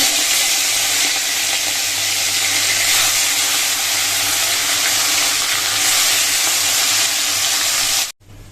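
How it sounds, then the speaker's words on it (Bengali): Fish frying in hot oil in a wok, a loud, dense, continuous sizzle held close for several seconds before it cuts off abruptly. "এই দেখো কড়াইয়ে তেল দিয়ে দিয়েছি, তেলটা গরম হোক, এবারে হচ্ছে মাছ ভাজবো।"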